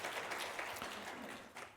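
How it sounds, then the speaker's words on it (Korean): Brief applause from a church congregation at an Easter Sunday service, soft and distant, lasting under two seconds. "출연해 주신 모든 분들 박수 한번 해주시길 바라고요"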